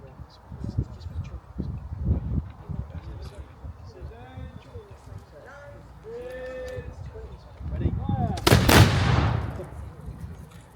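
A musket volley at an English Civil War reenactment on a village church farm. After a stretch of crowd and announcer chatter, one loud burst of shots erupts and rumbles away.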